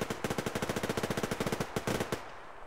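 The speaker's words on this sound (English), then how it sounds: "Shooting going on over here." A rapid burst of automatic gunfire from the shooter game Survarium, with evenly spaced shots rattling for about two seconds before a short tail of echo.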